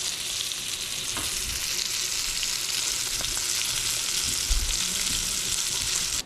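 Brook trout frying in a pan, a steady close sizzle and spatter of hot oil that holds level throughout, with a couple of small knocks and no talking.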